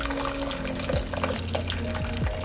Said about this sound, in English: So I'm gonna go ahead and strain it.